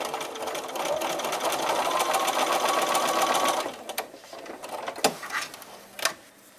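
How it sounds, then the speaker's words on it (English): Sewing machine stitching along a marked line on quilted fabric for a jelly roll mug rug, a steady close mechanical whir for several seconds, then stopping, followed by a few faint handling clicks and rustles. "I'm going to lay it flat on my sewing machine and I'm going to sew right on that line"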